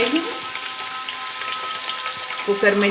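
Meat frying over medium heat for mutton biryani gives a steady sizzle and crackle, with a brief clatter near the end, close and fairly loud.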